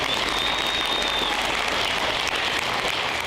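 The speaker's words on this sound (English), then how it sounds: "So, again, round of applause." Applause from the audience at a high school graduation ceremony, a dense, even roar of clapping that holds steady throughout, broad and hissy like rain, with a faint thin tone running underneath early on.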